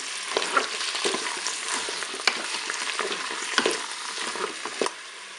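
Potatoes and mushrooms are stirred in a Cookeo pot with a bright continuous sizzle, broken by irregular scraping strokes and soft knocks of the utensil against the pot.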